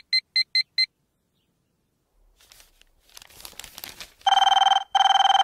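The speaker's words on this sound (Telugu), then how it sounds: "ఈ ఫోన్ చంపేస్తున్నా" A telephone rings in four quick electronic bursts, then after a pause some crinkling rustles give way to two long, loud sustained ringing tones close up, with no speech.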